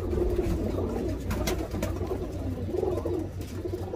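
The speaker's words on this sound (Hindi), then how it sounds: "ये कबूतर है, देख ले।" Teddy pigeons coo in low, repeated throaty phrases, close by and continuous, with no voices over them.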